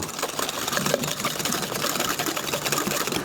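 An electric mixer running continuously, a loud close whirring buzz with a steady motor drone and slight rattling flutter as it beats.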